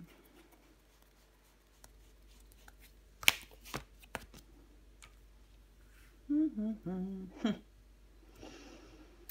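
Tarot cards laid down and shuffled on a table, with a couple of sharp close slaps and light paper rustles, then a brief burst of faint soft voice-like sound near the end, otherwise quiet.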